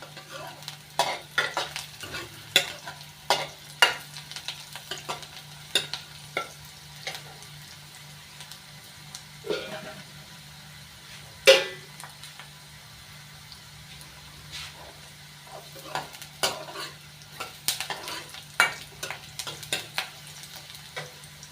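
Pumpkin curry cooks in a pan over a normal flame, with a steady low sizzle and frequent scraping, clattering spoon strokes as it is stirred.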